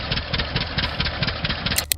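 A Waterloo Boy tractor engine runs with a steady, rhythmic chugging rumble, loud and close, firing in even pulses before a sharp knock near the end.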